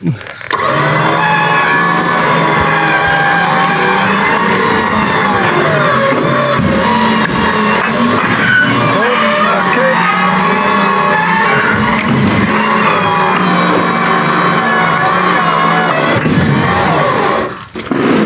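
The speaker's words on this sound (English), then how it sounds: "We're gonna winch it on the trailer." A winch hauls a long-parked Ford Bumpside pickup with flat tires onto a trailer, giving a steady, loud mechanical drone with whining tones that runs unbroken for the whole stretch.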